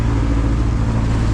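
Houseboat engine in Alappuzha starting and churning through mud, a steady, loud low rumble with no change in level, heard up close and alone.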